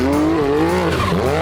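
A BMW M4 fitted with a new exhaust line revs loudly up close, a raspy, rising engine note that wavers and climbs over a short burst.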